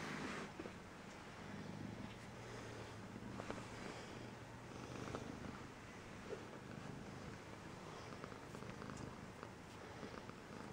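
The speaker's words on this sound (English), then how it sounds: "I hear that pretty purring" Soft, steady cat purring hums along continuously at close range, faint and even, with no talking over it.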